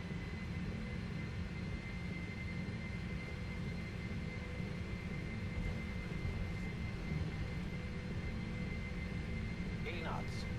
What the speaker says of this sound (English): Listen to that sound of the engines.